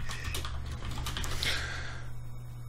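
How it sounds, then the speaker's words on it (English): Rapid keystrokes clatter on a computer keyboard, a steady close run of clicks lasting a few seconds with no voices over it. "Second you hear me typing and doing something production related, you stop bloody talking."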